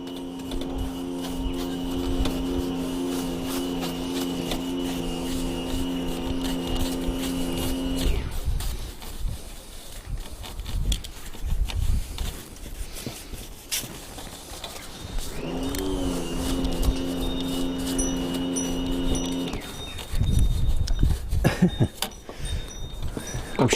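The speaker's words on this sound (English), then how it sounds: "there goes the pressure washer" A pressure washer running nearby, a steady droning motor hum with strong tonal layers that cuts off after about eight seconds, returns near fifteen seconds and stops again around twenty, with scattered clatter and knocks in the gaps.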